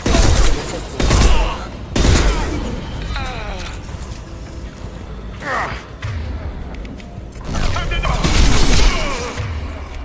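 Gunfire and combat effects in the video game Mass Effect 2 ring out in loud bursts of shots and impacts, with mechanical clanks between them and character voices talking over the action.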